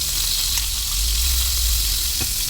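Prawns fry in a pan with a steady, dense sizzle and hiss that runs unbroken throughout, close and fairly loud, with a faint stirring tap near the end and no voices.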